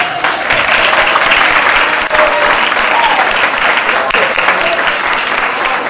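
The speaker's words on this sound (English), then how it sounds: "Let's give a round of applause." Sustained applause from a school quiz competition audience, dense and even clapping filling the whole stretch at a steady, fairly loud level.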